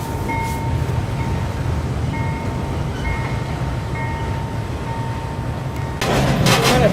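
A freight train rolls slowly through woodland near an Illinois junction, a steady low rumble and rattle of cars with faint tonal squeal, and a louder clattering surge near the end.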